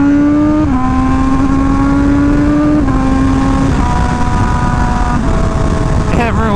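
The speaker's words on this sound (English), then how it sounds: "I definitely want to go through the gear, so hopefully like we'll turn here and I'll go through the gear," A superbike, Aprilia or Honda, accelerates hard through the gears, its loud engine note climbing and dropping with each of several quick shifts amid heavy wind rumble, ending in a sharp upward rev.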